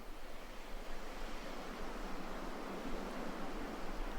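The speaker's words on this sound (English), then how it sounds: "the soft roar of the sea," Sea waves roll onto the shore in Bali at dawn, a soft, continuous broadband roar that swells gently and stays steady.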